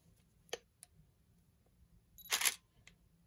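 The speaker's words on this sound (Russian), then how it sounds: "и затвор срабатывает." A Nikon camera with a Nikkor 105mm lens fires its shutter: a few sharp, close mechanical clicks spaced apart, then a louder, longer burst of shutter action, in an otherwise quiet room.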